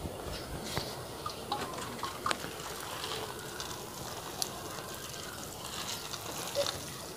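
Water poured from above to soak a potted plant, a steady soft trickle and splash with faint drips throughout, fairly quiet and continuous with no talking.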